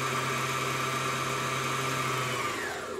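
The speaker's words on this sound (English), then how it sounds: "continue to wind it by pressing your foot back down on the foot control and hold it there" A Janome 725S sewing machine winds a bobbin with a steady, high motor whir and hum held at an even pitch, which fades slightly near the end, close by with no talk.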